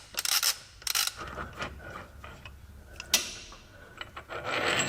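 Ratchet working loose the 18 hex center bolt of a rear engine mount on a Mercedes A-Class W169, with quick close clicking bursts, metallic rubbing and scraping, and a sharp clack partway through.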